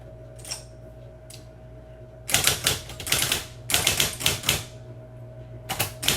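A typewriter clacks out a poem: a few scattered key strikes, then quick bursts of close, crisp typing with short pauses between runs.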